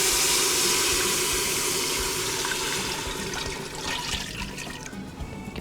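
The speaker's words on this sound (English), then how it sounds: "then you add the broth" Broth poured into a warm pot, a steady close pouring and splashing of liquid that tapers off with a few drips toward the end.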